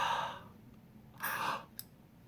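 A person takes a deep breath after using a Symbicort inhaler: a soft breath near the start, then a fuller breathy inhale, closed by a small click, quiet and close.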